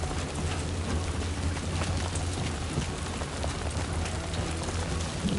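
Rain falling in the video game Death Stranding 2, a steady dense hiss of drops pattering on the ground and a rain slicker, continuous and even throughout with no talk.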